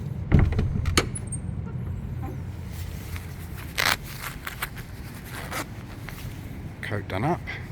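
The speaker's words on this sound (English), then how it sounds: "Coat done up." A coat zipper is pulled up with quick, close rasping strokes amid scuffs and rustling outdoors, with brief clicks near the end.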